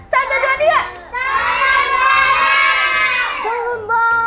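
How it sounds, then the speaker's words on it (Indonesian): A group of children shouts a name together in unison, loud and sustained, with a voice briefly before and after the chorus. "Coba deh teriak Solun Bolon dengan semangat."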